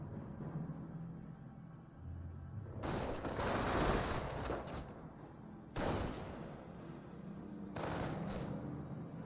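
Sustained bursts of machine-gun and rifle fire in a Company of Heroes World War II battle, with Volksgrenadiers engaging, come in three heavy waves of rapid crackling shots over a rumbling battlefield background.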